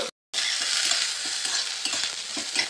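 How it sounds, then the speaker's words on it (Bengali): Potatoes and eggplant sizzle and crackle steadily in hot oil, with a continuous frying hiss and occasional soft stirring sounds up close. "আলু বেগুনটা একটু দিয়ে আগে ভেজে নেব।"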